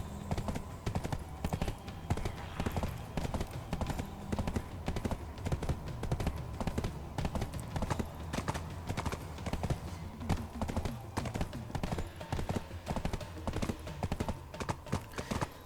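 Horse hooves gallop in the Black Desert Online video game, a fast continuous clip-clop rhythm under a steady game soundscape, with no talk.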